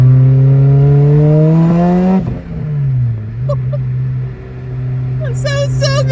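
A 2006 Lotus Elise engine climbs through a rising rev, drops sharply on a gear change, then settles into a steady hum, loud and close, with voices chattering over it.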